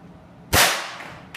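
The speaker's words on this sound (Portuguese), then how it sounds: "Deixa eu dar mais um disparo." A Tokio Marui gas-powered airsoft shotgun fires a single sharp, loud crack, followed by a brief hissing decay and a faint click.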